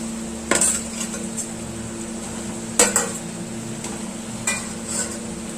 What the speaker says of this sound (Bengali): পটলগুলোকে মশলার সঙ্গে আরো 1 মিনিট কষিয়ে নেব